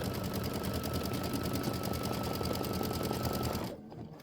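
An embroidery sewing machine stitches a quilt block, a steady fast rhythmic whirring hum of needle strokes running continuously before cutting off abruptly near the end.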